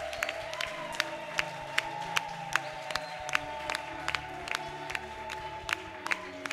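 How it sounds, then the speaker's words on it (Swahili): A church congregation at an all-night prayer vigil claps for Jesus in a steady rhythmic beat, sharp evenly spaced claps over a sustained droning keyboard or organ tone. "Mchapie Yesu makofi kwa ajili ya jirani yako."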